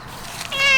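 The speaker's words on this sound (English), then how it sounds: "What are you doing, kitty?" A cat gives a single rising meow, close and clear, after a brief quiet moment.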